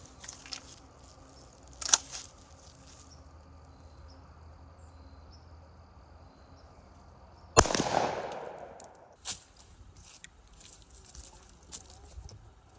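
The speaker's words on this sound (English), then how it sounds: "So we're going to shoot that one first, and let's see what that does to the pattern board." A Winchester AA shotgun shell fired at a pattern board on a shooting range: one loud blast with a ringing tail midway, preceded by a small sharp click and followed by faint clatter in otherwise quiet outdoor air.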